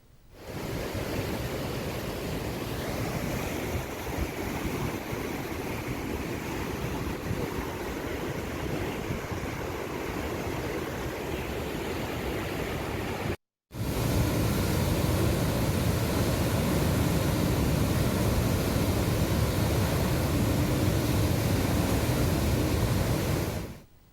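Floodwater surges strongly over the Vanadurga anicut near the Edupayala temple in Medak district, a continuous heavy roaring rush of water that stays loud throughout with one brief cut.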